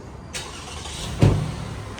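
A car whooshes past nearby with a brief rising rush of tyre and engine noise, over a low street background near North Strathfield Station, Sydney.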